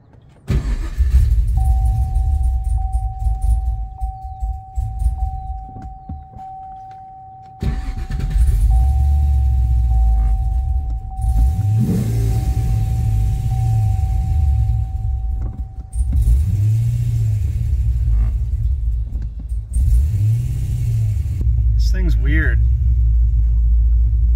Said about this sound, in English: Now it's going to idle perfect for the rest of the time it's running.